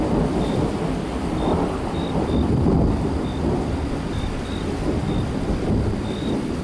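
Heavy rain pours steadily with a low rumble of thunder rolling underneath, loud and continuous throughout with no voices.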